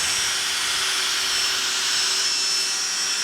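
A Dewalt vacuum cleaner running steadily at close range, a smooth airy whine with a faint high tone, continuous and alone.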